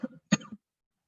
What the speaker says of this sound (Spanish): La tos que no se puede controlar